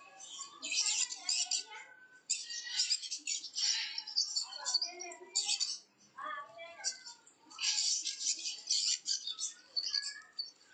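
A Pesquet's parrot, the Dracula parrot of New Guinea's mountain rainforests, gives repeated harsh, screechy calls in close, loud bursts separated by short pauses.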